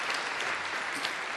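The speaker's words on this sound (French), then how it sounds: "on peut l'applaudir" Steady applause from a group at a youth debate tournament final fills the whole moment, dense and even, with no break.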